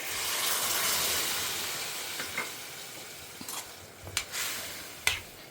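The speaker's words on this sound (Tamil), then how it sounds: "இப்போ நம்ம புளி ஜலத்தை ஆட் பண்ணிடலாம்." Tamarind water poured into a simmering jackfruit seed curry in a pan, giving a steady hiss and sizzle with a few soft stirring clinks near the end, close and moderate.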